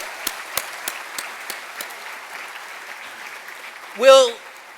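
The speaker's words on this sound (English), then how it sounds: "let's give them a big round of applause" Scattered claps from an audience at a medical school white coat ceremony, a few sharp distinct hand claps spaced out over a hushed room, ending with a brief loud cheer or whoop from a voice.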